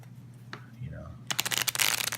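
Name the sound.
shuffling a brand new deck of Bob Ross game cards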